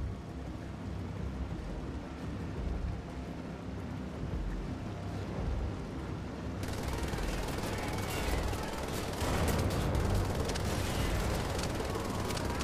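Explosion in the video game Wolfenstein: The Old Blood, a loud dense blast with rumbling debris that swells partway through and stays heavy, layered with rapid gunfire-like crackle.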